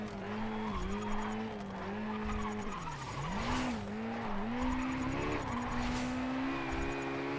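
A revving four-cylinder Nissan S15 race car engine in the video game Race Driver: GRID whines up and down in pitch, with tires squealing and skidding, loud and continuous.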